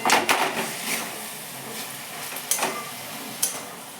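Spinach and small shrimp coated in mustard paste, turmeric and chili powder are stirred in a pan, giving a few sharp utensil clacks and scrapes spaced irregularly over a quiet background sizzle.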